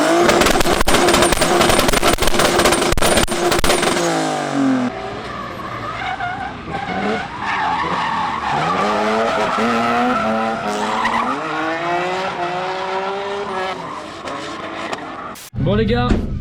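A 1100 hp BMW M3 drifts at around 180 km/h, its loud engine roaring through shifting revs over sustained tire squeal and skidding, with brief voices nearby.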